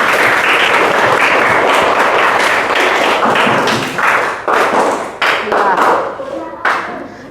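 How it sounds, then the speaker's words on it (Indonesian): Classroom applause from students during a seventh-grade Islamic studies lesson, a dense burst of many hands clapping loudly that thins into scattered claps toward the end, with voices mixed in. "Ya, tepuk tangan untuk Radisya."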